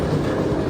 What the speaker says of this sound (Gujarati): Victoria coach station, railway station આવી ગયા છીએ અમે.